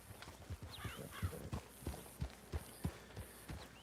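A horse walks in a roleplay video game, its hooves striking a steady, evenly spaced clip-clop, close and fairly quiet, with no talking.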